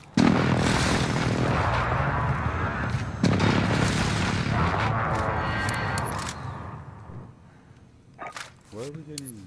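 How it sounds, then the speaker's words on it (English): Precision airstrike explosions in a video game boom heavily, first as a loud blast and then as a second impact, before the rumble fades into scattered pops while players talk over the radio. "Precision airstrike."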